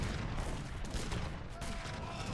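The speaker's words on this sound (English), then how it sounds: "so much artillery whacking down these sharpshooters" Howitzer artillery fire in the video game Age of Empires III, a steady barrage of loud overlapping blasts and booms with no pauses, a voice faintly audible beneath.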